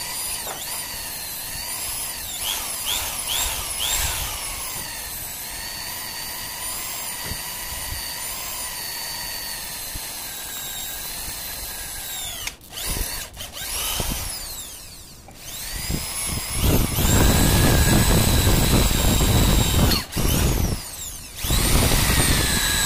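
An electric drill bores holes through a metal plate for a handmade wooden hand plane, its high whine running loud and near throughout, with several pauses and surges as each hole is drilled.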